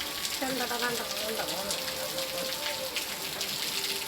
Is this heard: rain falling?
yes